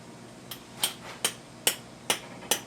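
A hammer taps lightly on a motorcycle foot peg during a repair, giving six sharp, evenly spaced metallic knocks close by in a quiet space.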